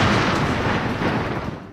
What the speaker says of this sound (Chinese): 下午1点13分，戴笠的飞机在南京岱山上空爆炸。